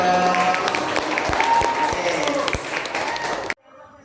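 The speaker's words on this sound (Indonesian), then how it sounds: "Tepuk tangan dong." A school audience at a teacher's training presentation applauds with a burst of many hands clapping fairly close and loud, broken by a few sharper claps before the sound cuts off abruptly near the end.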